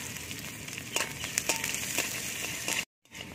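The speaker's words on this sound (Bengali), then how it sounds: "পেঁয়াজটা আমার ভালো করে ভাজা হয়ে গেছে।" Chopped onions fry in a generous amount of hot oil in a wok, giving a continuous close sizzle broken by scraping stirs, before it cuts out briefly at the end.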